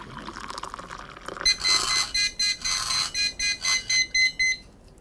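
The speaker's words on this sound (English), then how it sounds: "start pouring, and stop when it starts to beep" Water pours from a kettle into a cup fitted with a level indicator, which then sounds a series of short, evenly spaced electronic beeps over the soft pouring. The sound is close and fairly quiet.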